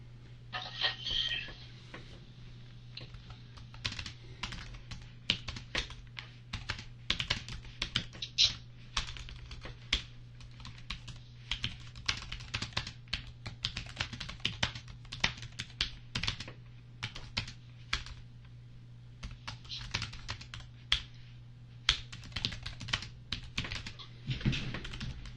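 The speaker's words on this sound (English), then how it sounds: "Sorry for the typing, ladies." Fast, continuous typing on a computer keyboard, close by, with dense irregular clicking that runs for about twenty-five seconds over a steady low electrical hum and no talking.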